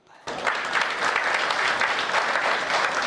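An audience claps at a Hindi comedy poetry gathering, a hasya kavi sammelan. The applause starts abruptly after a brief quiet moment, then continues as a loud, dense, steady round.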